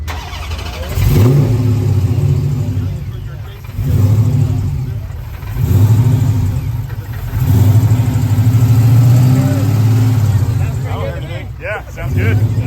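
A hot rod engine, just repaired by welding, fires up and revs in several swelling bursts, loud and close, with a rough idle between blips.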